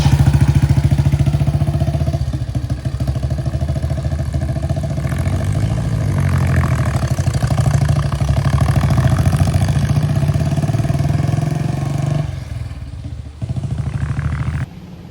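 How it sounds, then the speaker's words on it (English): Vintage Indian 4 and Rudge Special motorcycles rolling out from a classic car and bike breakfast meet at a pub, engines idling and pulsing steadily up close, loud and continuous, with a brief dip near the end. "we've got the Indian 4 and the Rudge Special now rolling out"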